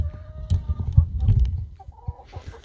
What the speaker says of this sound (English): These chickens are all going crazy right now